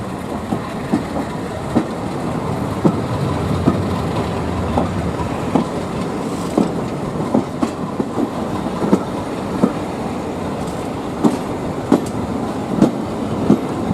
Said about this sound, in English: We start off our journey on board of 33202, which is visiting from the Mangaps Farm Railway, and resident Class 37 D6729